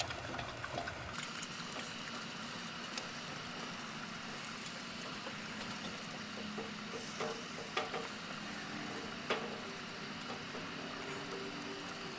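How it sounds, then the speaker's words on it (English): Mini sweet peppers sizzle on a grill in a soft, steady crackle, with a few light clicks and scrapes of a utensil turning them, and no one talking. "okay, these are sizzling away."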